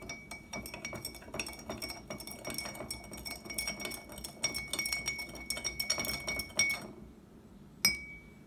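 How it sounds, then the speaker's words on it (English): A tablespoon stirs a mixture in a cup, giving a close, steady run of bright clinks and scrapes against the sides that stops briefly before one last sharp tap. "And then I will take my spoon and mix it in."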